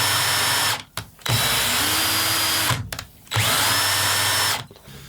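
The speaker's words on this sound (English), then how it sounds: "I've got this hooked up to the drill here, and I can show you the travel up and down" An electric drill drives a DIY CNC Z-axis up and down, a loud, close whirring motor in long runs broken by short pauses as the direction reverses.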